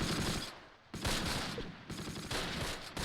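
Sustained machine gun fire in the Close Combat: Last Stand Arnhem war game, a steady rattling stream of shots broken by short pauses into three bursts, fairly distant and unaccompanied by talk.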